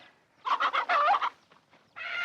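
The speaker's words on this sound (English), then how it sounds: "Now, lands to goodness, what's happened to that old hen?" An old hen squawks and clucks in a rapid burst of agitated cries, then gives a shorter squawk after a brief pause, close and clear with no talking.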